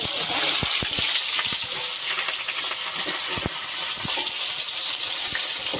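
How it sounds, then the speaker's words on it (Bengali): Chopped onions frying in hot oil in a wok, a steady bright sizzle with occasional soft pops and clicks, fairly close, without talk. "পেঁয়াজগুলোকে একটু লাল লাল করে ভেজে নেব"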